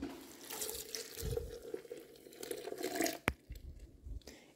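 Water running from a tap into a container while vegan nacho sauce is prepared in a home kitchen, a steady close splash and trickle lasting several seconds, followed by a sharp clunk and a quieter tail.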